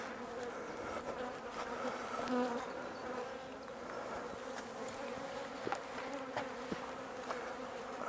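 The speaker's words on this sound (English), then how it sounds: "The bees are getting a little bit grumpy, but that's understandable." Honeybees buzz steadily around an opened nuc hive box during a hive transfer, a dense close drone with scattered louder passes of individual bees.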